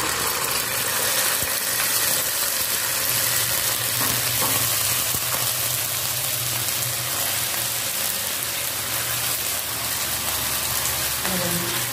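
Balinese spice paste (bumbu Bali) fries in hot oil for a pork dish, a steady, dense sizzle and crackle that runs unbroken throughout, with a low rumbling hum underneath.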